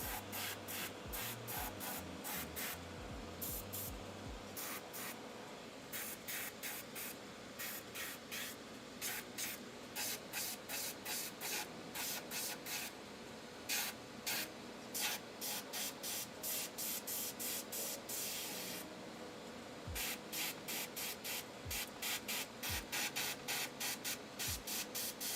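Spray painting with a spray gun fed by a weak air compressor, repeated short bursts of hissing spray in a steady on-off rhythm, close and fairly loud, with brief quiet gaps between passes.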